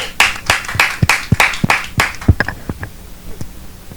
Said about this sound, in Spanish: Vamos a darle un aplauso a Zuka